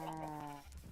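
A single sheep bleats in a Minecraft game, a short wavering nasal call heard clearly and alone, fading into a faint low thump at the end.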